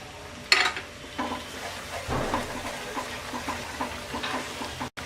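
Chili powder and turmeric fry with green mango pickle in a pan, a close, steady sizzle broken by repeated scraping stirs.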